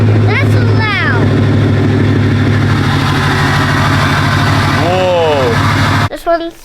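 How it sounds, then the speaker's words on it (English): A Ford Powerstroke diesel truck engine idling loudly with a steady low rumble and rattle, people talking over it, then the engine cuts out near the end. "let's go ahead and start the Powerstroke"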